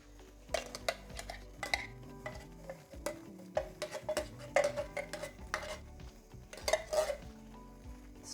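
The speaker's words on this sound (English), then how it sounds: "Stir those in." A spoon clatters and scrapes around a pan of simmering Tuscan chicken in quick irregular bursts over a light sizzle, with soft background music underneath.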